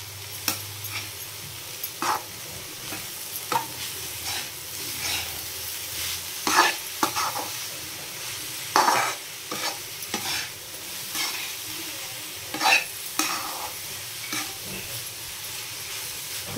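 Spiced carrots fry uncovered in a pan, giving a soft sizzle broken by repeated scraping stir strokes at an irregular rhythm.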